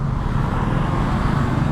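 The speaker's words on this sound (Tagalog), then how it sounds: "Traffic yan." Road traffic heard from a motorcycle in heavy traffic, a loud, steady, close roar of engines and wind with no distinct pass-bys.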